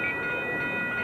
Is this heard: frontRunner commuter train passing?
yes